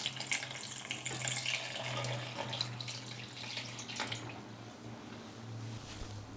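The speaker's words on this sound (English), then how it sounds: "Pour in the reserved blanching water." Water pours steadily into a pot of Vietnamese pork cabbage rolls, the reserved cabbage blanching liquid splashing in a continuous close wash for several seconds, thinning slightly toward the end, with no talk over it.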